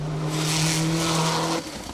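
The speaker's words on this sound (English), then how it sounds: "Gary Cooper and John Riley powering their way through this first stage of the day in that pretty good looking Subaru" A Subaru rally car on a four-wheel-drive special stage, engine holding a steady droning note for over a second and a half before cutting off, loud and close with no talk.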